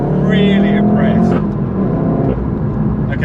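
A Volkswagen Golf GTI Clubsport S hot hatch drives along with a steady, loud engine drone and road roar from inside the cabin, while someone talks over it.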